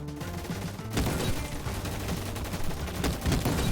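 Continuous bursts of rapid gunfire in a Roblox shooter game crackle loudly after a brief quieter moment, with overlapping shots in a dense, chaotic stream.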